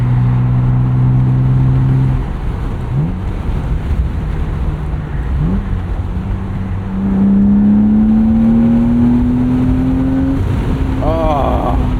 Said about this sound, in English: want you guys to hear this S52 through the DINAN catback